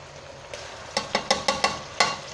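Minced meat fries with ginger and garlic, a steady sizzle broken by a run of five or six sharp spoon scrapes and knocks against the pan, close and clear without speech.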